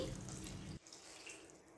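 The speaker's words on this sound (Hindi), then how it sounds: "अब हम यहाँ पर ऐड करेंगे पानी" Water poured from a cup into a pan of chilli chicken masala after the spices are fried, a short splashing pour that cuts off sharply partway, leaving faint kitchen ambience.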